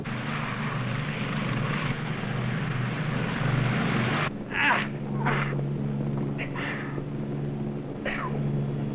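P-51 Mustang aircraft engine running at a steady loud drone, with a constant low rumble throughout and brief higher bursts near the end.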